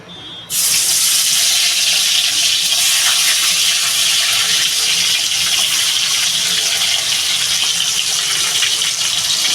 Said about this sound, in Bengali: তেলটা আমার গরম হয়ে গেছে মাছগুলো আমি একটা একটা করে দিয়ে দেবো